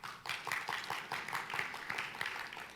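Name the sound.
applause for the GIS team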